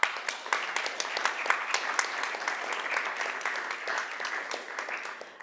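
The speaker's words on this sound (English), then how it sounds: "A warm applause." A conference audience gives sustained, even applause at the close of a session on inflation, with many hands clapping continuously and moderately loud throughout.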